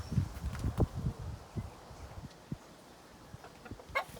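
Hens cluck in short bursts inside a large henhouse holding many birds, with a dense cluster of calls at the start and scattered clucks and rustling afterward, fairly faint and without speech.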